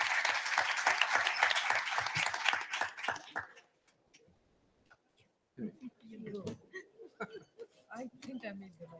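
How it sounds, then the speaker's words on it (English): Audience applause for a panel at a UN conference session, a dense burst of many hands clapping that fades out, followed by a pause and then a speaker talking. "Please give the panel a warm round of applause."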